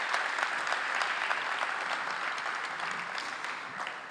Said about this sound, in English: Would you give a round of applause to the craft workers who do this work?